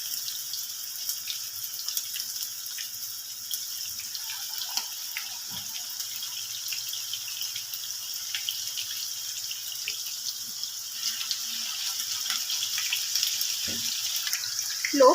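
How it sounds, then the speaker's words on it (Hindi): Beef chapli kebabs frying on low flame in hot oil, giving a steady, soft hiss and fine crackle with occasional faint pops, continuous and close throughout. "लो फ्लेम पे 8 से 10 मिनट के लिए इनको फ्राई कर लेते हैं।"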